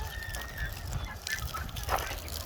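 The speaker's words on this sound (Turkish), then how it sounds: "Siz ördeklere bakın." Ducks in a backyard poultry coop give a few honking quacks over a low, busy background of rustling and farmyard noise.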